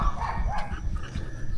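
Dogs barking along a rural road in Thailand, moderately loud with repeated overlapping yaps against a steady outdoor background.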